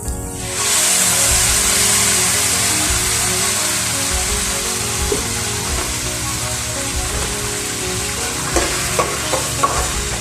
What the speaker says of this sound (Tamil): தக்காளி கொஞ்சம் பச்சை வாசனை போகிற அளவுக்கு வதக்கிக்கோங்க.